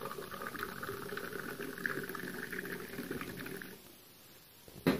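Liquid bubbles and gurgles into a glass for a mint drink, a soft steady frothy trickle that runs for several seconds, then drops off, ending with a brief clink.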